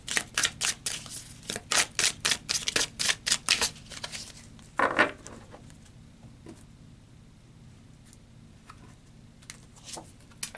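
Tarot cards are shuffled in a rapid run of crisp riffling slaps, then one card is pulled with a brief flick; the last half fades to quiet handling.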